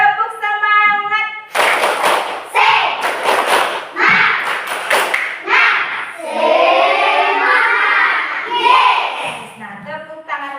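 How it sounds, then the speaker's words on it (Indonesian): Children in a classroom repeat the rhythmic 'tepuk semangat' cheer, bursts of patterned clapping mixed with loud group chanting, close and energetic. "Nah, sekali lagi. Tepuk semangat."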